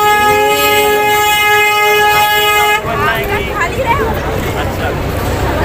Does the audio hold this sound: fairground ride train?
yes